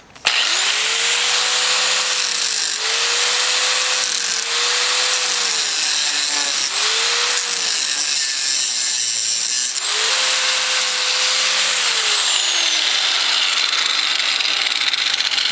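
A power tool cutting metal bars off an electric cart, a loud continuous whining grind with the pitch sagging and recovering as the blade bites, alone without speech.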